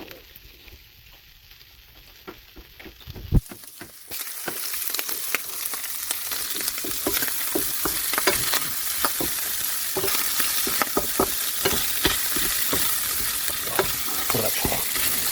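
Sausages fry in a pan with the harder white part of a vegetable, starting quiet, then a sudden loud sizzle after a clatter and a steady crackling fry with popping bursts.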